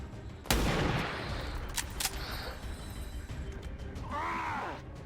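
A single sharp sniper rifle shot in XCOM 2, one loud crack with a brief echoing tail, followed by smaller clicks and a short groan-like electronic sound near the end.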